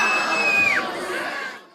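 Crowd of children cheering and shouting at a zoo animal show in a Minnesota park, a dense, lively burst of young voices that holds steady for over a second before trailing off.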